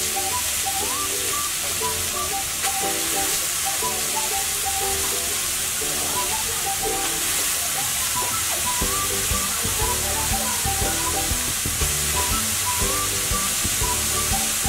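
Grated carrots hit hot ghee in a pan and sizzle loudly with a steady bright hiss and crackle, while faint background music plays underneath.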